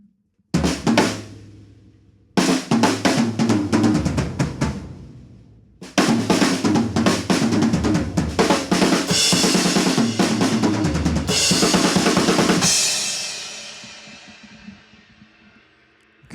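A drum kit plays a fill-heavy rock pattern with no kick drum, loud and close, in several bursts of rapid snare and tom hits with crashing cymbals, the last cymbal left ringing out to fade.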